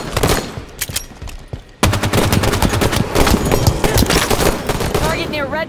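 Rapid bursts of video game gunfire, loud and dense, with machine-gun rattles and single shots crowding together, then growing heavier and continuous after a sharp jump in level partway through, as a player shouts over the shooting.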